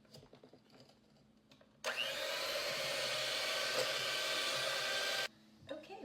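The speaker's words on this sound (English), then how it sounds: "we're going to beat this together until it gets nice and creamy." Electric mixer whirring loudly as it beats cake batter with orange zest for an upside-down cranberry cake, a steady drone for about three and a half seconds, with quieter kitchen clatter before and after.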